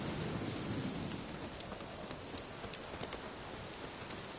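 Steady rain hisses across the scene in The Witcher 3 video game, with a low rumble of thunder rolling beneath it at moderate loudness and no voices.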